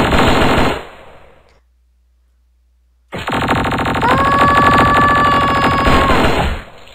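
Minigun in the Raze 2 video game firing in two loud sustained bursts of rapid fire with a gap of silence between, the second burst carrying a rising whine as the barrels spin.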